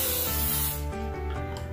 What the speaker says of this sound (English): just spray it with a cooking spray on the walls and the bottom